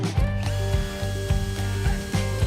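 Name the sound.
drilling and screwing wooden planks together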